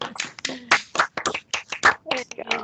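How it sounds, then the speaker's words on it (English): A group on a video call claps and snaps in scattered, uneven bursts. The sharp hits are close and compressed, with voices talking in between. "Everybody unmute really quick and give some nice claps and snaps for Micah."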